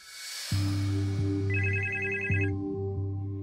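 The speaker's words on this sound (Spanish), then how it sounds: "suena el teléfono" A telephone rings in a home, its electronic double-tone ring starting suddenly and repeating steadily, close and loud, with a brighter warbling tone layered over the middle of the ring.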